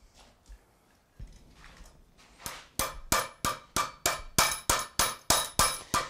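A hammer strikes metal on a mandrel while forging a bottle opener, repeatedly in a steady rhythm, about a dozen sharp ringing blows that grow louder, following a few quieter taps.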